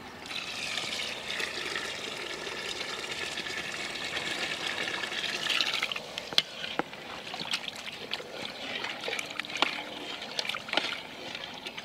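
Water is poured into a pot of goat curry over sautéed masala with separated oil in a village kitchen, making a continuous splashing trickle. A few sharp clinks of utensils follow as the flow eases.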